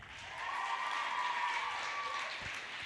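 An audience applauds and cheers to vote for the best outfit, a steady wash of clapping and voices holding for nearly three seconds at moderate loudness.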